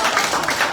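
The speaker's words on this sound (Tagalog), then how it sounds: "Ang pumalakpak ay tatanggap." Church congregation applauding during a sermon, a brief dense wash of clapping from many hands, fairly loud and alone.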